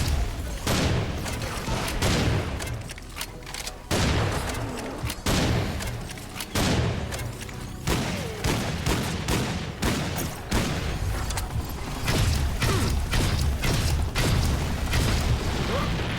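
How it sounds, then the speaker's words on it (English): Repeated gunfire while shooting an enemy in Serious SamCraft, a rhythmic series of loud blasts and mechanical clacks recurring every second or so across a long stretch, with booming impacts and no voices. "just jump and shoot him in the face"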